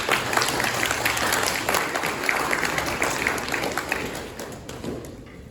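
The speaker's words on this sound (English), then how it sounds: "Let's give them a round of applause." A room of people at a Scout troop Court of Honor claps for honored scouts, a dense, continuous round of applause that holds steady, then tapers off at the end.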